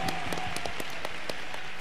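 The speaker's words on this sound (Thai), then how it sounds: "ปรบมือได้ผู้เปิดโอกาสทางธุรกิจ" Audience at a Thai business talk event clapping, scattered sharp hand claps over a busy room ambience, brief and moderately loud.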